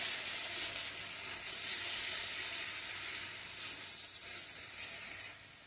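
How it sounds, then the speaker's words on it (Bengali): Spices with dry red chili powder frying in a pan while being stirred for a hilsa fish curry with elephant foot yam, a steady, close hissing sizzle that carries evenly throughout. "ভালো করে নেড়ে চেড়ে কষিয়ে নেব।"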